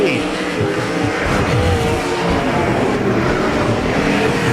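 Desert sprint cars roar around the Arizona Speedway dirt oval during a Hall of Fame Classic heat race, a dense, loud wall of engine noise throughout with faint announcer-style talk mixed underneath.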